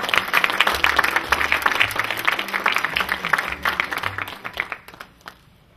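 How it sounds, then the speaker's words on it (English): A seminar audience breaks into steady applause to welcome a speaker, a dense wash of many hands clapping that thins out and fades over the final seconds. "put our hands together and welcome them."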